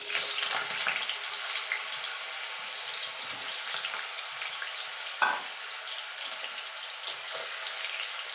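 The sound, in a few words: potato frying in hot oil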